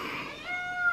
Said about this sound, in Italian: se anche gatta Stellina miagola vuol dire che è davvero grave la situation